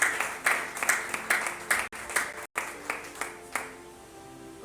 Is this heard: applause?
yes